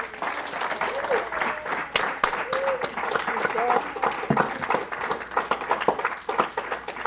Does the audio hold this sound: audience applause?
yes